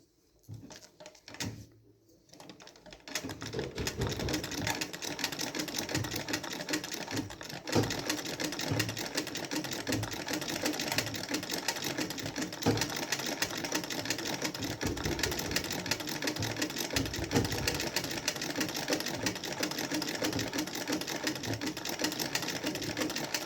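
A domestic sewing machine stitches embroidery in a hoop frame, starting with a couple of brief bursts and then settling into a continuous fast, even whirring rattle that runs for about twenty seconds without voices.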